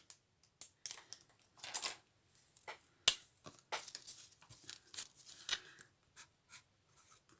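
A pen scratches out a word on a small slip of paper, sounding as faint, close, irregular strokes and taps with brief pauses between them, and no speech over it.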